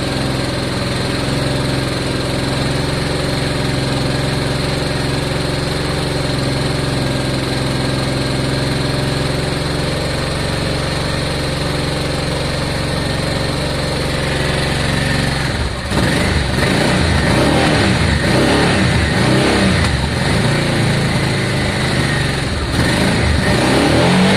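Honda Deauville motorcycle engine after a carburettor clean, idling steadily with a buzzing tone, then revving in repeated uneven bursts near the end, close and loud.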